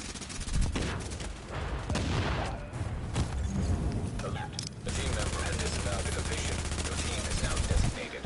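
Rapid bursts of explosive-round gunfire in The Division, loud overlapping cracks and booms in dense clusters with brief gaps, mixed with a voice talking over the firefight.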